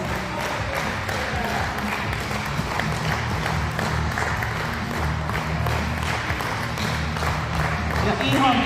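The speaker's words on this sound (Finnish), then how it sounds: "Annetaan vielä kunnon aplodeja tässä vaiheessa." An audience keeps up steady applause during a 30-minute kettlebell lifting competition with 36 kg bells, a continuous crowd clatter with an announcer's voice talking over it.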